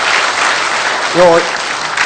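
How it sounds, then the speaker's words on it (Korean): Applause in a church congregation, a steady broadband wash of clapping across the whole stretch, with a brief voice rising over it midway. "박수로 맞이해 주시고 한 말씀 하시겠습니다."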